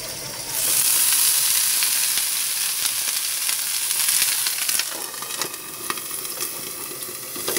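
Water sprinkled into a pan of frying eggplant rings stuffed with fish paste bursts into a loud hiss of sizzle and steam, then settles into a softer, continuous crackle.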